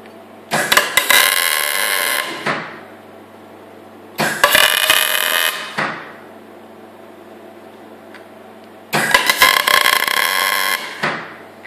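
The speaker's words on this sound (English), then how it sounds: "The good thing with MIG welding it is it goes fast." Three bursts of MIG welding on a Super 7 Locost car build, each a harsh, crackling buzz lasting one to two seconds, separated by quiet gaps with a low steady hum.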